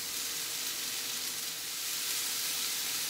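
Hoisin pineapple tofu stir fry sizzles loudly in the pan, a dense continuous hiss of frying that stays steady and close throughout, with no voices over it.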